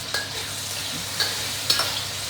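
Cabbage and shiitake mushrooms stir-fried in a pan while a braised tofu dish is cooked, giving a steady sizzle with three brief scraping stirs spaced about half a second apart.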